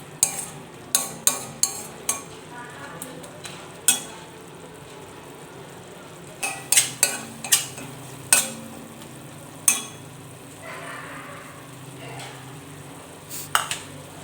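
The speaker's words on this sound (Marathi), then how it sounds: "आता इथं मी दोन तीन मिनटासाठी असे असे मसाले आहेत छान असे ह्याच्यामध्ये शिजवून घेते" Spices stir and sizzle in a pan for a dry potato-tomato dish, a soft frying hiss broken by repeated sharp clinks of a spoon against metal.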